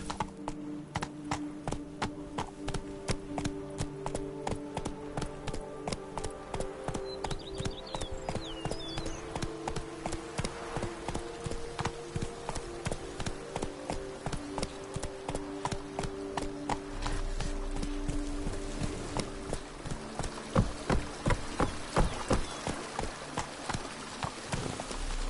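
Roach, the horse in The Witcher 3, galloping with a steady, rapid clip-clop of hooves, rhythmic and close, continuing for the full stretch over a low ambient game backdrop.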